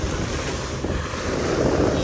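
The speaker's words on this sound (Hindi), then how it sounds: "लहरें चेक करो" Waves and rushing water surround a moving wooden boat at sea, a steady roar of surf and splashing mixed with wind buffeting the microphone.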